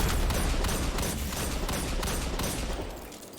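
Rapid, sustained gunfire from a Destiny 2 firefight, shots in quick repeated bursts with sharp cracks over a dense, loud background of combat noise.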